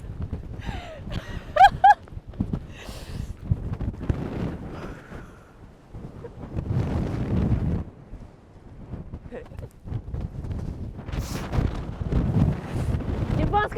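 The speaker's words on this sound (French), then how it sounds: "il fait beaucoup de vent" Strong gusting wind buffets the microphone on a long hillside walk, roaring in surges across the whole stretch, with a brief voice and exclamation near the start.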